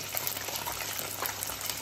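Homemade chicken nuggets fry in hot oil, a close, continuous crackling sizzle with dense small pops and no speech.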